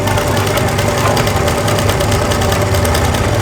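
A sewing machine stitches a seam during a beginners' tailoring class, giving a close, loud, steady mechanical whir with a fast, even rhythmic chatter that runs unbroken throughout.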